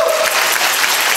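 Dense audience applause at a live show, loud and continuous throughout, with a brief cheer near the start.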